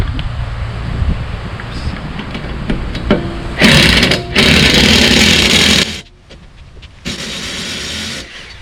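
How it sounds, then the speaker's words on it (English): An impact wrench removing car wheel lug nuts during a home tire rotation, loud bursts of buzzing rattle, one long burst and then another after a short pause, over quieter background noise. "I like to use my impact wrench because it just saves me time and effort"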